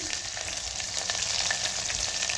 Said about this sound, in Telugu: ఇప్పుడైతే ఆనియన్స్ అయితే వేసేస్తున్నా